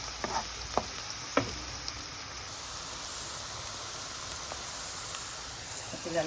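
Garlic, onion and carrots sizzle steadily in a pan as cooking oil hisses, with a few sharp clinks of a utensil stirring at the start and near the end.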